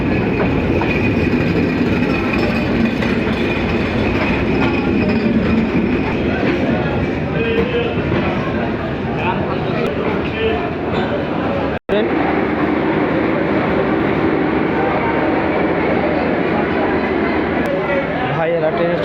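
A train stands at a crowded station platform as many people board, a low rail rumble under a constant hubbub of voices and shouting, with a brief cut near the middle.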